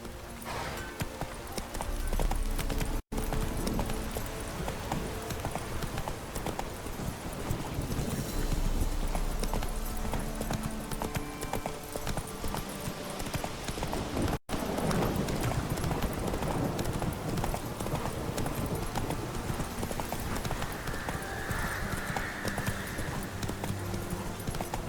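Horse hooves gallop in The Witcher 3, a continuous fast clip-clop rhythm running throughout alongside faint game ambience and music.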